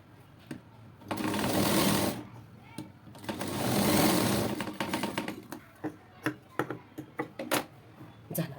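A sewing machine stitching a blouse seam along the shoulder strap runs in two sustained whirring bursts, then a string of short stop-start clatters. It sounds close and moderately loud.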